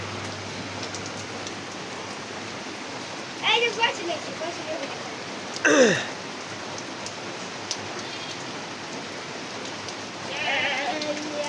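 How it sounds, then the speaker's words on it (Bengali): Heavy rain pours steadily over a Bangladeshi village, a constant dense hiss close by, with brief voices, a cough and short animal-like bleats breaking through in a few moments. "প্রচুর বৃষ্টি বাংলাদেশে"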